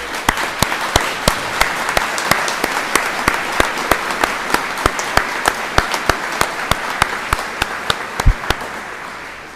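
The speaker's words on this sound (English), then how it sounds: "let's give a round of applause in gratitude for their service" Sustained audience applause at a 2023 spring college graduation ceremony, dense steady clapping from a large crowd filling the whole stretch with no voices over it.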